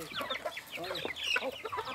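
Chickens clucking busily close by while being fed popcorn on a farm, a dense run of quick overlapping clucks and squawks from several birds.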